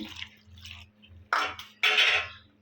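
A cup of water is poured into a pressure cooker of chickpeas with spices, in two short splashing bursts between quiet moments. The sound is close and alone.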